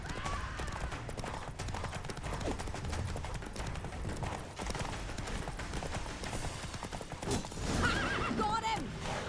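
Roach, a horse in The Witcher 3: Wild Hunt, gallops with a steady clip-clop of hooves and whinnies loudly near the end, set within a dense, busy game soundscape.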